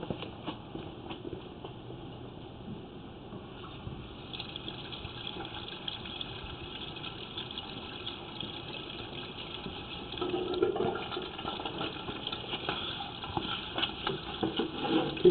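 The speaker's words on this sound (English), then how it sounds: "I'm going to try and run a little tiny bit of water and see where it goes" Water from a hose running into a compacted sewer line, a steady low trickling and gurgling wash that swells slightly louder toward the end, continuous and fairly quiet with no talking.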